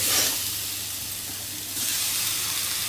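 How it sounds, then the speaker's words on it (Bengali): Mushrooms sautéing in a pan with a spice paste of onion, garlic, ginger, cumin, red chilli and turmeric, giving a steady close sizzle and hiss that brightens slightly toward the end, with no talking. "এখন আমি মাশরুমটা দিয়ে আরেকটু কষিয়ে নেব"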